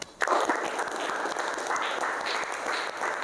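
Students in a mathematics classroom applaud together at the end of a project lesson, a dense burst of many hands clapping that starts abruptly and stays steady and fairly close throughout, with no talking over it.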